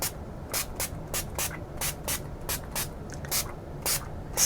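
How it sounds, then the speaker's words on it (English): Watercolor paint palette from Artistro being misted with a spray bottle: a series of about a dozen sharp, close spritzes at an uneven rhythm, each a short hissy burst, with faint room noise between them. "I'm going to spritz them to kind of wake everybody up for their first time out"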